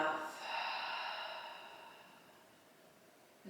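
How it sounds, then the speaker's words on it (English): A single deep breath drawn in through the nose and released through the mouth during a yoga session, a soft airy rush that swells early, then fades slowly into a long quiet exhale, close and alone. "we'll take 1 big inhale through the nose and exhale side of the mouth"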